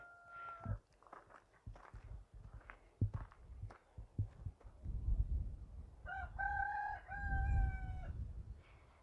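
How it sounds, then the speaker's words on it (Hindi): A rooster crows twice in a forest on a rocky hill trail, once briefly at the start and again in a longer call near the end. Crunching footsteps on loose stones and heavy breathing run throughout. "यहाँ पे सारा दिन मुर्गे बोलते ही रहते हैं ऐसे।"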